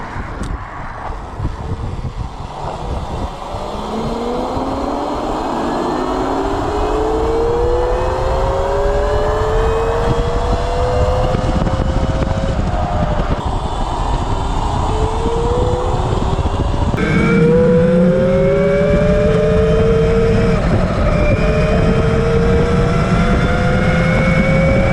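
A QS120 hub-motor electric bike accelerates hard at speed, its electric whine climbing steadily in pitch over roaring wind noise, then dropping and rising again in a second pull, loud and continuous throughout.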